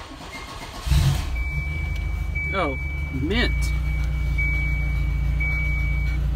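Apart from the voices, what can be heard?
Volvo 240 engine running and revving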